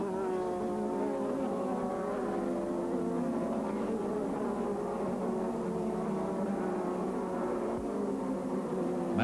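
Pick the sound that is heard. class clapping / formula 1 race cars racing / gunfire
formula 1 race cars racing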